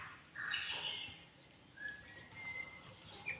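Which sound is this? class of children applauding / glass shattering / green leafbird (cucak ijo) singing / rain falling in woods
green leafbird (cucak ijo) singing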